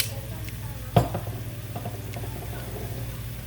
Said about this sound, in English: And just give this a nice stir.